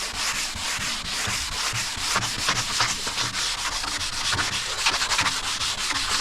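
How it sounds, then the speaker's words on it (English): Rhythmic back-and-forth scrubbing as an aluminium boat surface is scuffed by hand before edge primer, a close, steady abrasive rasp with no talking. "So what we'll do is we'll just scuff this up."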